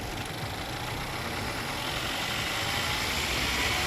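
A Mercedes A180 car engine, suffering from overheating, runs steady and close with a constant broadband roar across the whole clip, sounding more like a sustained high idle than sharp revs.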